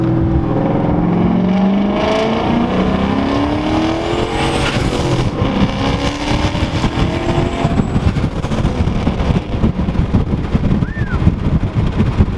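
A turbocharged 2007 Ford Mustang GT accelerates from inside the car, its engine roaring loud and continuous with rising and falling revs through gear changes over steady road noise.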